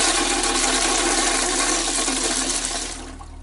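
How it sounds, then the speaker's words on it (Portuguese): A loud toilet flush rushes and swirls close by for about three seconds as a sound effect in an audio drama, then fades as the bowl drains. "Apertou a descarga com força."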